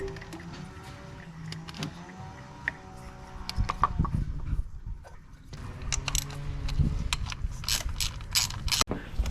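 Coil pack bolts on a Mitsubishi Evo 6 engine are tightened with a ratchet, producing close, irregular clicking and mechanical ratcheting with small metallic knocks throughout.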